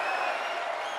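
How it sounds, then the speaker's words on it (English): A crowd at a women's wrestling match keeps up a dense, steady roar of voices and cheering for a brief moment, loud and continuous with no pauses. "That's the crowd chants for women's wrestling."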